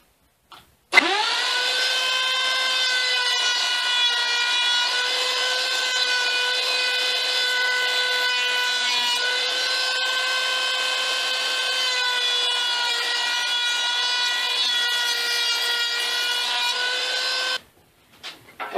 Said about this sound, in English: make 2 passes on the router table and do a round over edge on this side